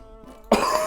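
A single sharp cough bursts out loud and close after a brief quiet stretch, from someone narrating a Hearts of Iron 3 strategy game campaign.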